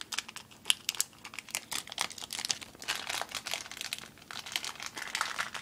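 A small parcel holding secondhand Lego bought on eBay is torn open, with continuous close crinkling and rustling of packing material and paper in quick irregular bursts, no talk over it.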